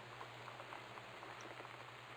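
Rainfall on a rainy night inside the video game Gone Home, a faint, steady hiss of falling rain with a low constant hum beneath it and no voices.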